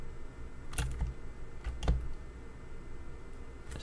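Computer keyboard keys are pressed during 3D modelling work in Nuke, giving a few sparse, soft clicks spread out over quiet room tone. No voices are heard.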